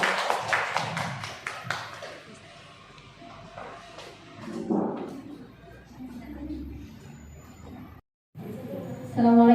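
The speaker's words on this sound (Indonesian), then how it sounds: "Kita tepuk tangan dulu semuanya." Indoor audience clapping during an Indonesian school dissemination session in Gresik, East Java, with scattered irregular claps at first, then a fuller burst of applause mid-clip, mixed with voices and room noise.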